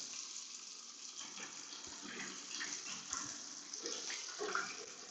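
Water gushes steadily over a Studds Ninja Elite helmet during a waterproof test, a continuous close splashing wash that holds at an even level throughout, with a few brighter splatters and no talk.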